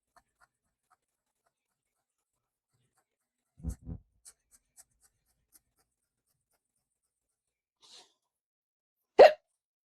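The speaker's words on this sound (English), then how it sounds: "Hiccup." A few abrupt hiccups, short, sharp isolated bursts with quiet gaps between them in an otherwise silent room, one louder jolt near the end.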